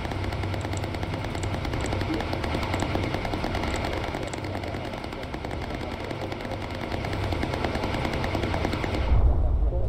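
A bomber turret in the video game Bomber Crew fires a dense, continuous machine gun chatter over a steady engine drone, loud and unbroken for nearly ten seconds.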